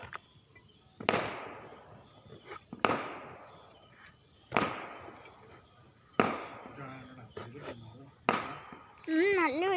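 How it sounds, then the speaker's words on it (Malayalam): Firecrackers burst one after another at a fireworks display, each sharp crack followed by a fading crackle and spaced a second or two apart, heard from a moderate distance against a quiet night with faint insects and a voice near the end. "നല്ല വെടിക്കെട്ടുണ്ട്"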